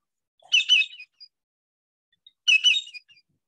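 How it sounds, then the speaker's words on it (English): Recorded calls of a greater yellowlegs play back as two clear, loud bursts of sharp whistled notes, each a quick series of ringing calls separated by about two seconds of silence. "What you were hearing was a greater yellowlegs"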